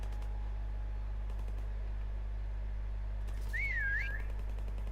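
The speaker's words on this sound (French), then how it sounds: "Ah, j'ai sifflé." A prop in the Call of Duty Prop Hunt game lets out a short, warbling two-part whistle, brief and moderately clear, over a constant low electronic hum with no talking.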